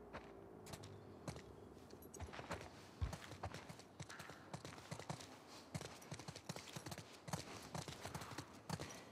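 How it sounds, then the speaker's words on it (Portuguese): Horses clip-clop along in the video game The Last of Us Part II, a dense irregular run of hoof strikes at moderate distance, fairly quiet overall, with no talk. "Vamos voltar para os cavalos."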